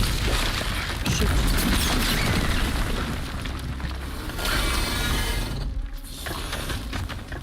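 A thermobaric explosion in a video game erupts as a loud, sustained broadband roar that rumbles on for several seconds, briefly thinning near the end before swelling again.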